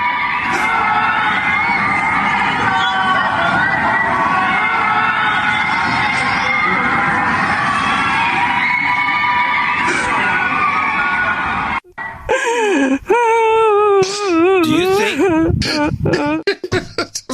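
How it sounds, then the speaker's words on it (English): Residents of surrounding apartment buildings in Urumqi scream and wail together, a dense distant mass of voices echoing between buildings, followed by a close, loud voice sobbing and crying out. "An Urumqi resident recorded the heartbreaking scene of people living in surrounding buildings, screaming together to vent their frustration"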